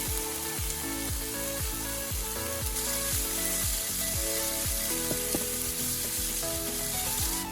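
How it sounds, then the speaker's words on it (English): Turkey stir-fries with garlic and chili in a hot pan, a steady close sizzle broken by repeated scraping and tossing strokes at a regular pace. "after a few minutes of stir frying"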